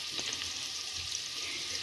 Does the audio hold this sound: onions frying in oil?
yes